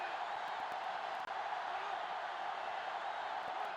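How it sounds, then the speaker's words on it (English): A stadium crowd in the NCAA Football 2005 video game roars steadily and stays loud from start to finish. A brief dropout interrupts it once. "And this crowd is going crazy."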